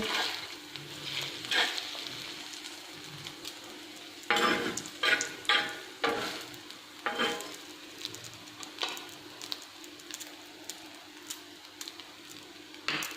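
A bread omelette fries in a pan with a quiet background sizzle, broken by a run of sharp scraping clatters as the pan is shaken, then scattered ticks and taps.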